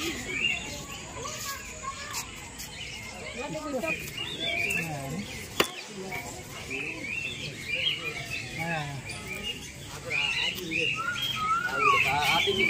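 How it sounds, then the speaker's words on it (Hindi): Parrots and mynas calling in a zoo aviary in Surat, Gujarat, with repeated chirps and squawks at mid distance over a busy background, mixed with voices of people talking nearby. "सब पैरोट है, पैरोट तोता।"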